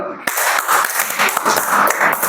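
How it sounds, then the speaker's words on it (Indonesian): A classroom of students breaks into applause during a lesson on voluntary fasting, bursting in suddenly with brisk, uneven clapping mixed with voices. "tepuk tangan dulu"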